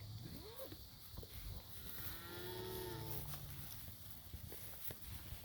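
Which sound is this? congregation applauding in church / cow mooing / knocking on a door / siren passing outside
cow mooing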